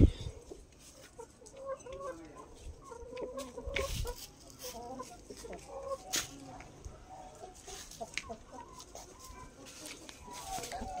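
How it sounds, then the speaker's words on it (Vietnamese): Chickens cluck and a rooster calls in a rural yard beside a vegetable garden, several birds at moderate distance with irregular calls and bursts, a few voices faintly underneath. "Quá trời gà luôn."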